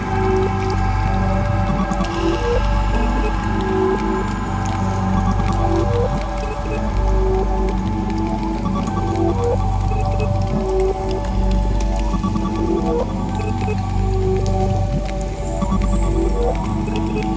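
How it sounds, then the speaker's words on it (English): Electrified rain effect played from cassette tape loops on Tascam decks, a dense, steady wash of crackling and dripping texture with layered droning tones running continuously and loud throughout. "we have electrified rain in the background"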